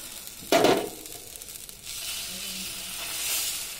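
Patishapta batter hits a hot tawa with a sudden loud burst of sizzle, then settles into a softer steady hiss as it is spread, close by with no voices.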